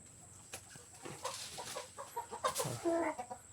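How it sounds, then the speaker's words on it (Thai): A young gamecock, about seven to eight months old, clucks in short irregular bursts, close and moderately loud, with other fowl sounds around it and no talking. "ตัวนี้ไก่นุ่มนะครับไก่นุ่ม"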